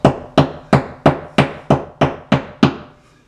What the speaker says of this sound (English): you want to gently tap it into the drywall, but you have to be careful not to crack the drywall